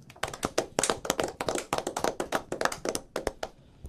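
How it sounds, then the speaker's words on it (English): A small group claps at an indoor radio-show gathering, sharp irregular claps close by and steady for a few seconds, with no talk over them. "Clap it up for Ernest L."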